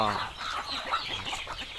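Native chickens, breeding roosters and hens, cluck busily at feeding time on a small farm, overlapping close calls with a brief crow-like note at the start.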